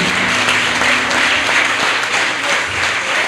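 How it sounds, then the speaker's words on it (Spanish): A church congregation applauds for God at a guest pastor's service, a steady wash of clapping that holds evenly for a few seconds with no voices over it. "si le va a dar ese aplauso a Dios, dáselo fuerte"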